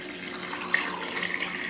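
Water pours steadily into a pressure cooker holding chicken and pig feet, a close, continuous splashing stream with small gurgles, no talking over it.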